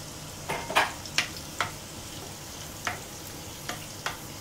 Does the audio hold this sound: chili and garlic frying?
yes